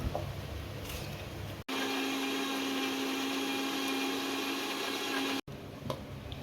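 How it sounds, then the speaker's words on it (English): A mixer grinder runs steadily for about four seconds as it purees roughly cut tomatoes, giving a loud, even motor whine that starts and stops abruptly, with quieter kitchen sounds before and after. "We'll add them to the mixer grinder."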